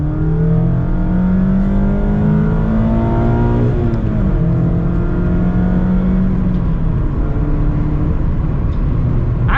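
A 2021 Mazda Miata RF Club accelerates hard on a highway from second gear, its engine note climbing steadily through the revs, with a brief dip at a shift before rising again, loud and continuous inside the cabin with road roar underneath.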